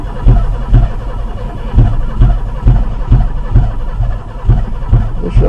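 An Oldsmobile Cutlass Ciera engine on stale old gas cranks and catches in repeated rhythmic pulses, sputtering and trying to fire without settling, loud and close throughout.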